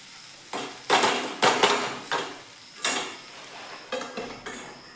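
A spoon clatters and scrapes against a pan while hadga flower vegetable is mixed with crushed peanuts, giving a string of close, fairly loud metallic knocks at an uneven pace with no one talking.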